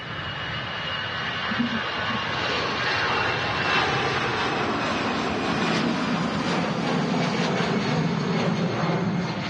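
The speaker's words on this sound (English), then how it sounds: "Brussels Airlines now rolling. You can hear them blades making the right noise." A Brussels Airlines jet airliner rolls for takeoff at Manchester Airport, its engines giving a loud, steady broadband roar that holds throughout, close and unbroken.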